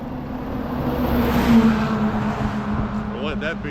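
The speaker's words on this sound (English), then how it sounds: "Big truck with a heavy, wide load on it." A big truck hauling a heavy wide load rumbles past on a road in Lewiston, Maine, a steady loud engine and tire roar that swells and fades while someone talks nearby.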